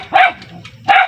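A dog barks twice, sharp and close, with a short pause between the yelps and a low murmur underneath.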